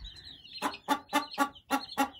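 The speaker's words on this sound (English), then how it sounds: "we have a hen over there" A farm hen gives a quick series of about six rhythmic clucks, close and clear, with faint background chirping on a busy barnyard.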